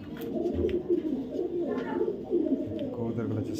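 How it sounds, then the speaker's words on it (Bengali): A pair of active, aggressive pigeons cooing at a farm, repeated low throaty coos close by, with a voice talking over them. "যেমন অনেক এগ্রেসিভ কবুতরগুলো"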